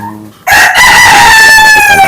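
A Polish crested chicken, the batik Canada type, crows once loudly and close, starting sharply after a short quiet lead-in and holding a long sustained call to the end.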